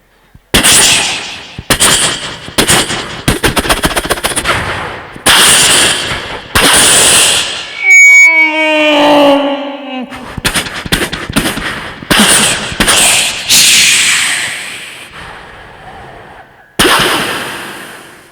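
A voice imitates gunfire and bomb blasts on a comedy stage show, rapid bursts of loud bangs and booms with whistling sweeps in the middle, close and intense.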